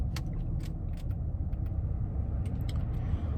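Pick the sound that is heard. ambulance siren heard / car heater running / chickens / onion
car heater running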